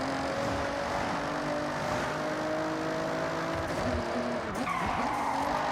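A car drifting in Forza Horizon, its tires skidding and squealing in a long, loud continuous screech over a steady engine drone, with a sharper burst of skid noise near the end.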